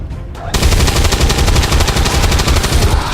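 Sustained automatic machine gun fire from a machine gunner in the video game Long War 2 starts abruptly after a short quiet moment and keeps up as a loud, continuous rattling burst.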